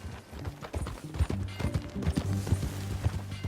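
Rhythmic clip-clop of horse hooves at a steady gallop in the video game Red Dead Redemption 2, close and fairly loud, with a low rumbling background.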